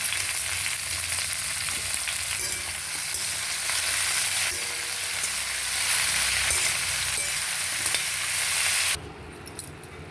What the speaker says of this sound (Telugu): ఈ క్యాబేజీ కాళ్ళు బాగా వేగితేనే పచ్చడి బాగుంటుంది.